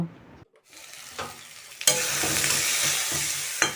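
Green chillies and cumin seeds hit hot oil in a pan, a brief gap, then a loud sustained sizzle with light clinks, close and without talk.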